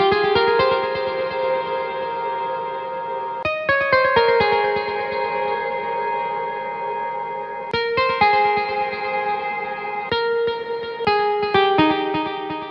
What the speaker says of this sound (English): And here's how it sounds with this reverb.